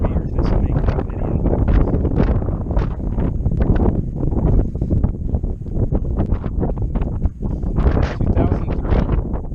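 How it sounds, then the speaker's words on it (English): Strong gusting wind buffets the microphone outdoors in a canyon, a loud, close, continuous roar with rising and falling bursts. "It's really windy."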